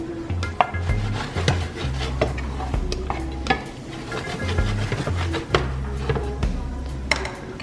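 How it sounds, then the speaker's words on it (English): Fish and garlic sautéing in a pan for a Jamaican home-cooked meal, with repeated stirring scrapes and clinks of a utensil against the pan over a steady close sizzle. "so you're sauteing the fish and garlic"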